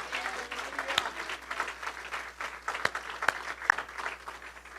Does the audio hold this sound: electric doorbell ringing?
no